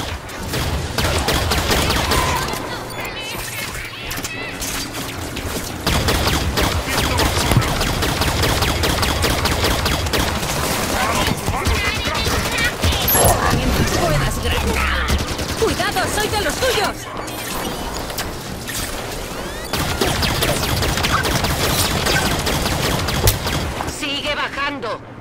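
Rapid bursts of gunfire fill a Halo 5 Guardians firefight on Xbox One, dense and continuous over roughly twenty-five seconds, mixed with game effects and voices.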